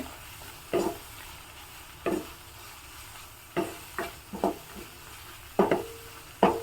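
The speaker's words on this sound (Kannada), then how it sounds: "ಇನ್ನೊಮ್ಮೆ ಚೆನ್ನಾಗಿ ಮಿಕ್ಸ್ ಮಾಡ್ಕೊಳ್ಳೋಣ" Spoon stirring traditional flavored rice in a pan on the stove, giving seven or eight short, sharp scrapes and knocks spaced irregularly over a faint steady background.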